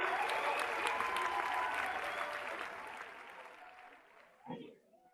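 Applause and cheering from participants at a healthcare system launch celebration, dense clapping that holds steady and then fades out, ending with a brief voice.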